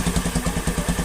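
An old Honda Beat scooter idles with no load during a charging-system check. The engine gives a close, even, rapid putter of regular thumping pulses, with nothing else heard.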